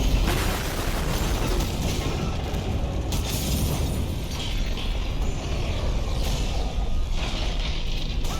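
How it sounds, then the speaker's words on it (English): A ship's reactor explodes in the Dead Space remake, a loud, continuous roiling blast with mechanical rattling and bursts sustained throughout, heard up close with no voices. "Right behind the necrofuck, the reactor explodes."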